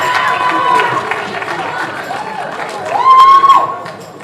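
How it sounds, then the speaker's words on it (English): A school talent show audience applauds and cheers performers leaving the stage, a steady crowd roar of clapping and shouting that swells near the end, with voices calling out over it. "Clap them on the way out."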